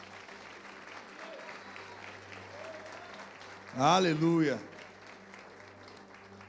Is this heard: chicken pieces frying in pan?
no